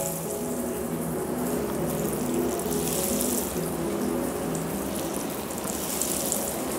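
Food fries in hot white oil in a frying pan, a continuous dense sizzle and hiss that stays close and steady throughout, no talking.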